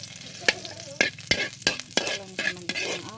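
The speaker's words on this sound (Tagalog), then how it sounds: "So napainit akong uwil, ako na ni ilunod akong ahos." Garlic frying in hot oil while being stirred, with a steady sizzle broken by repeated sharp scrapes and clatters of the utensil against the pan, close and fairly loud, with no talking.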